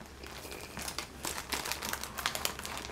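Crinkling plastic packaging as a package of stickers is handled and opened, with continuous close rustling and crackling crinkles and a few sharper tearing bursts, no talking.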